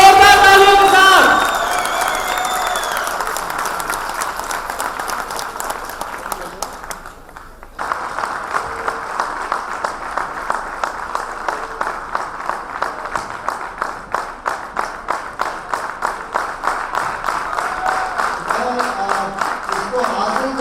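Sustained crowd applause at a live storytelling performance, many hands clapping loudly with a brief dip partway, then rising again into a rhythmic, near-unison clapping pattern, with some cheering voices mixed in.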